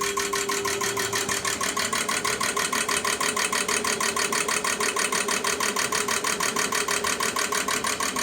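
An Autool CT500 injector tester runs an idling test, giving a loud, steady machine drone with fast, even rhythmic pulsing of injector clicks throughout, close up and alone without talk.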